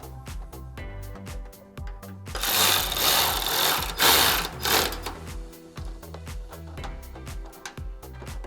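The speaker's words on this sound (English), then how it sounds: "Again, this is going to be a 10mm socket." A ratchet with a 10mm socket loosens headlight bolts on a 2005-2009 Mustang. It makes bursts of quick, close clicking with a brief louder metallic rattle partway through.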